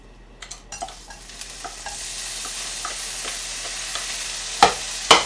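Scallion and garlic stir-fried in oil for a Korean japchae rice dish, a steady close sizzle with scattered stirring clicks and scrapes, two sharp utensil knocks near the end.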